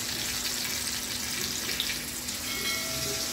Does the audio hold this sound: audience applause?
no